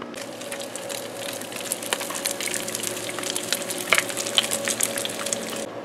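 Bacon frying on a Blackstone propane griddle gives a steady, faint sizzle with scattered crackles and pops running throughout.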